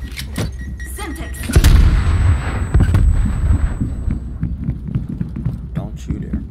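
A Semtex grenade blast and gunfire in Call of Duty: Black Ops Cold War, a heavy booming explosion followed by rumbling and scattered shots, with voices talking over the game.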